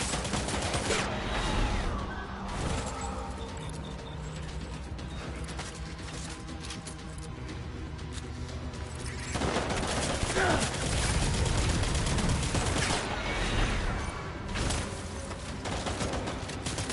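Gunfire in the video game Death Stranding, sustained bursts and clattering shots over a dense, busy mix, with a voice speaking over the din.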